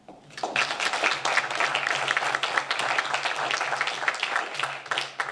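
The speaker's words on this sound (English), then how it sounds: "So I'd like for us to applaud that." Attendees at a Committee of the Whole meeting break into applause. The sustained clapping begins abruptly and holds at an even, moderate level for about five seconds.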